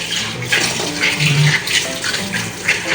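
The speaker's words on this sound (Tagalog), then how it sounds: "Bago ko yan, kailangan hugasan muna." Running tap water gushes steadily into a sink while fish is washed under it, a continuous close splashing with small shifts as the fish moves through the stream; no talking.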